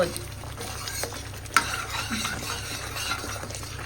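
A tadka for saag sizzling hard in a pan, a loud close crackle with stirring scrapes and a sharp clink of a utensil against the pot, no one speaking over it.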